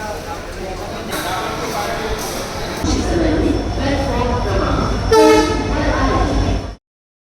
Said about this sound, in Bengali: আজকে আমরা দেখো কোথায় দাঁড়িয়ে তিনসুকিয়া রেলওয়ে স্টেশনে